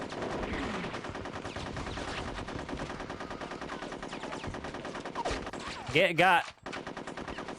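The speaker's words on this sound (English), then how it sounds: "Oh, they're just gonna keep shooting at him?" Rapid gunfire from the Conker's Bad Fur Day video game, a dense continuous barrage under game sounds, with a brief louder burst near the end and a short spoken word.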